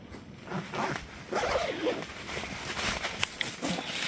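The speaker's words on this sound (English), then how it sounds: "all these doors zip open for ventilation" A zipper on a window panel of a KingCamp Khan Light canvas bell tent is pulled open in a few quick, rasping runs, close up, with light rustling of the fabric and faint background sound.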